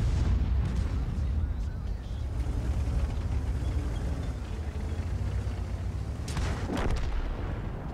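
Tank cannon fire and explosions in the World of Tanks video game, a dense, loud booming rumble with a sharp burst near the end, while someone talks over it.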